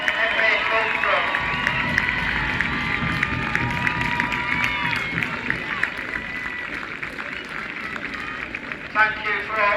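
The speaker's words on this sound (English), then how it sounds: "please give a round of applause to your Rossington main ladies on a historic FA Cup run" Crowd noise at a women's FA Cup football match for Rossington Main Ladies, a continuous din of cheering and clapping mixed with shouting voices and a loud announcer-like voice over the top.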